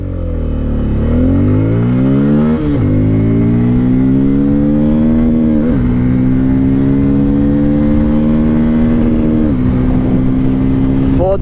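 A Bajaj Pulsar N250 motorcycle accelerates hard from standstill to 100 km/h, its engine note climbing steeply through each gear with distinct dips at the shifts, loud and continuous with wind roar under it.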